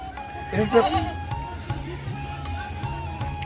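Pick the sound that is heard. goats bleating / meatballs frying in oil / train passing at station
goats bleating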